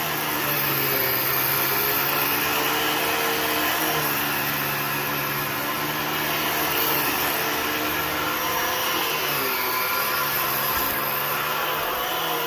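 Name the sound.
Kirby Avalir 2 vacuum cleaner running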